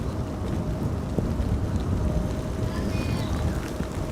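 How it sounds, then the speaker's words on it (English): Rain falls during a windstorm at Amsterdam Schiphol Airport, a dense, constant hiss mixed with gusty wind rumble on the microphone, loud and close, with a faint distant whine drifting in near the end. "Once again, rain is now falling."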